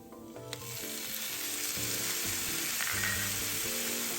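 Rice cake pieces stir-fried in a hot pan give a steady, close sizzle throughout, with light scraping and stirring on top and no voices.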